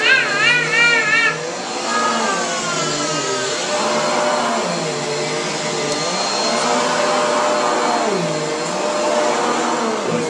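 A household vacuum cleaner runs steadily and loudly on a couch, its motor drone continuous throughout, with a voice briefly heard near the start.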